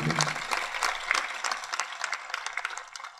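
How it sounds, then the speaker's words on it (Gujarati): An audience at a religious gathering applauds families, a scattered, moderately quiet patter of clapping hands that thins out gradually over a few seconds. "તાળીથી વધાવી આ પરિવારો."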